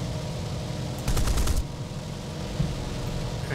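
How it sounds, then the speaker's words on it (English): Aircraft machine guns in the War Thunder video game fire a short rapid burst over a steady engine drone, a half-second rattle of close shots in otherwise continuous noise. "Having fun shooting down Brian."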